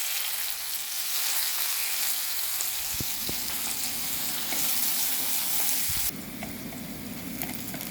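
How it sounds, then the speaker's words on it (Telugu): Onions and chillies with cumin fry in ghee, a loud steady sizzle with occasional stirring clinks and scrapes, the hiss dropping somewhat in the last couple of seconds, no one speaking. "ఆనియన్స్ బాగా ఫ్రై అయిపోయి ఆనియన్ స్మెల్ పోయింది"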